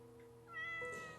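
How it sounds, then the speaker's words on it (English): A cat gives one short, rising meow, soft and fairly close, with no other sound around it. "Is the cat okay with all these mews?"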